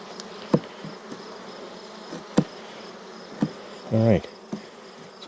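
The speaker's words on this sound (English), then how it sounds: "The bees sure don't like it." Bees buzzing close around a hive during a Formic Pro mite treatment, a steady drone with sharp knocks and one louder buzzing pass of a nearby bee; no talking is heard.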